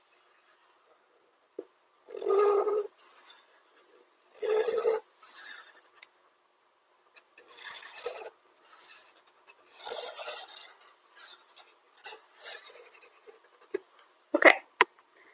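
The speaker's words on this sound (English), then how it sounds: "trace your hand on a piece of paper" Pencil tracing around a hand on paper, a series of scratchy rasping strokes in short bursts with pauses between, close and fairly clear.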